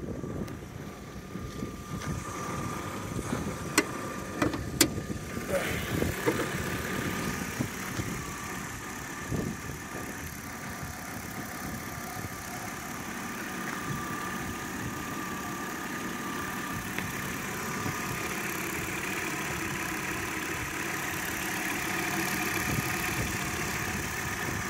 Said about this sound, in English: The engine is running very smooth.